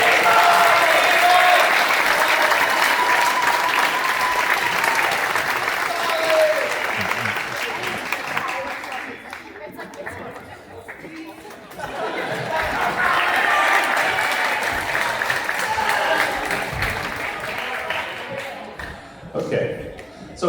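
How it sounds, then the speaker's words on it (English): An audience at a middle school jazz concert claps in sustained applause, fading briefly midway then swelling again, with voices mixed in. "One more big round of applause for that."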